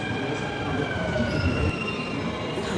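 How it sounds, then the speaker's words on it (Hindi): A Mumbai metro train pulls into the station with a continuous roar and high, sustained wheel squeal, loud and close throughout. "अब दोस्तों, अंधेरी की तरफ जाने वाली हमारी मेट्रो आ गई है"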